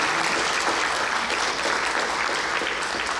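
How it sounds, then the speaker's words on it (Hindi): A crowd at an ashram gathering breaks into loud, dense, sustained applause that holds steady at full volume from start to finish. "एक बार जोरदार तालियां।"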